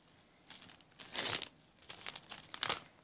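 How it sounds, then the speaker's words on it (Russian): An AliExpress parcel being opened, its packaging crinkling in a few soft, close bursts of crackle and rustle with brief pauses between. "Так, третью посылку открываем."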